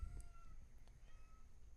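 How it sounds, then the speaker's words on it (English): A cat meows faintly in the background of an online hangout call, with a couple of short, thin cries over low room noise and no speech. "I can hear him meowing."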